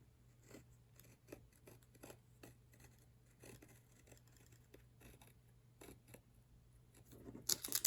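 Scissors cutting out a paper stencil, with a steady series of close, soft snips spaced at an even rhythm and a louder rustle at the end.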